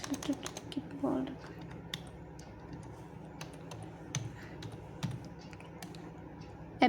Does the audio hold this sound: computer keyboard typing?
yes